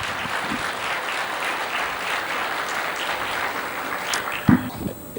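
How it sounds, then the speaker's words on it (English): A conference audience claps steadily in a hall, a dense sustained round of applause that carries on for several seconds before tapering off. "let's have a bigger round of applause for Hema Malini ji"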